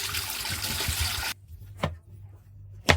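Fermented bael fruit pulp is squeezed through a sieve, giving a dense wet trickling and dripping for over a second, then quiet with a couple of brief liquid splats.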